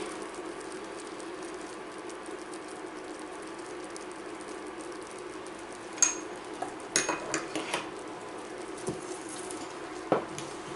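Low steady hiss of a gas stove with a few sharp metallic clinks and knocks near the end as a saucepan of syrup at 103 degrees is lifted off and moved.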